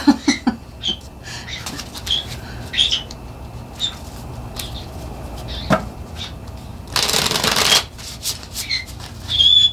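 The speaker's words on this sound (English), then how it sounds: "they're so hard to shuffle when you have small hands like me" Playing cards are riffled in one quick burst of dense fluttering, between soft shuffling taps and clicks close by.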